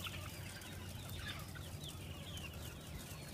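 Free range chickens on a farm clucking, several birds murmuring and calling close by over a steady low background hum, continuous throughout.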